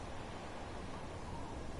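Steady rain falls in the hunting game Call of the Wild, a dense, even hiss of broadband patter that stays constant throughout, faint and without voices.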